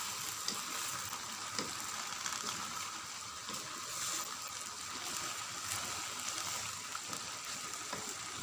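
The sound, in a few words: stirring cabbage and mustard greens into frying capcay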